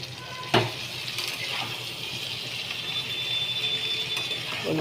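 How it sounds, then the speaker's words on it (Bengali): Pieces of elephant foot yam fry in a pan with a soft, steady sizzle, faint and close, marked by a single clatter early on as they go in, with no voices. "এবার আমি ওলটাকে ঢেলে দেবো"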